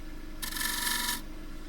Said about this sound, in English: Now I'm going to use the left wing again just to shear scrape that into a little toe